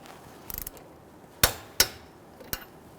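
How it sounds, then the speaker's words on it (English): Torque wrench tightening the nut on a front lower control arm of a 2008-2013 Infiniti G37, giving a quick cluster of light ratcheting taps followed by three sharp, separated metallic clicks, close and clear with no talking. "Go ahead and torque this down to 46 foot-pounds."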